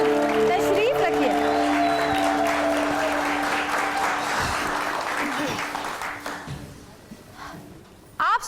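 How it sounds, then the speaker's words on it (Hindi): Studio audience applause for performers of a Heer and Ranjha story on a television variety show, a loud, dense round of clapping that gradually fades out as voices and tonal music continue over it. "हमारी हीर और हमारे रांझा के लिए जरा बहुत सारी तालियां तो बजाइए"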